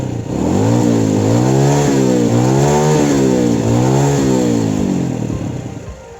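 A 2020 Honda BEAT scooter engine revved close up, its pitch climbing and falling in repeated waves before easing back toward idle.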